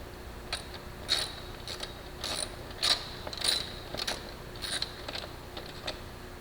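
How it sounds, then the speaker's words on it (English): An 8mm socket ratchet with extension backs out side plate bolts on a KLR650 motorcycle during an exhaust install: faint, quiet clicking and scattered light mechanical ticks over a steady low hiss, close by, with no talk. "you're going to need an 8mm socket, preferably with an extension, and to take these two bolts out"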